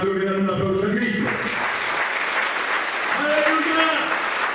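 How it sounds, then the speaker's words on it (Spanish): A church congregation bursts into loud, sustained applause after a voice speaks briefly, with cheers rising again toward the end. "¿Cuánto le dan un aplauso a Cristo?"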